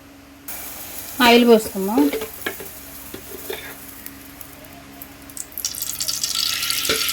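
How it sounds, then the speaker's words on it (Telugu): Cooking oil is poured into a pan to fry chicken liver. A brief voice is heard early on, followed by a liquid trickle and then a rising sizzle near the end. "ఇప్పుడు ఆయిల్ పోసుకుందాం."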